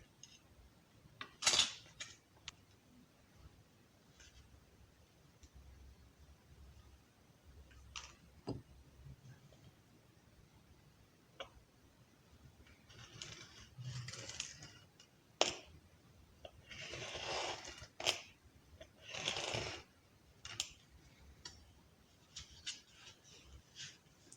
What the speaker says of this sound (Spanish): cortamos otra tira más de cebrano a 8 milímetros